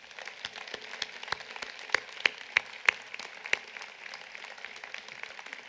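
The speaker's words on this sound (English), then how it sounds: "Please applaud them one more time." Scattered, fairly faint clapping from a college commencement audience, a few distinct sharp claps standing out over a soft background of applause in a large space.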